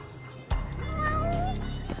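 A single drawn-out cat meow from the video game Judgment sounds clearly over background game audio.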